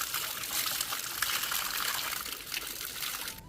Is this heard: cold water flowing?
yes